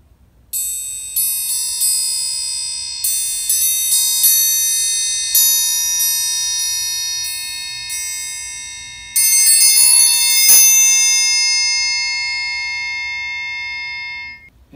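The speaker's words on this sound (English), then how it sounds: "triangles also that are made from different types of metal, and if you can see, this one has like a bunch of grooves dented into it to create a different sound." Metal triangles are struck repeatedly, including one with grooves dented into its surface, producing bright, ringing metallic tones in a steady series of hits, then a denser shimmering roll that decays slowly, close and without voices.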